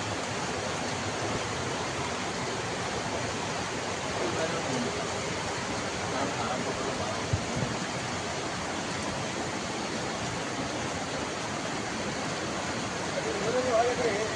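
Rainwater flows steadily during rain in Padasavali, a continuous even rushing wash of water, moderately loud, with faint voices in the background.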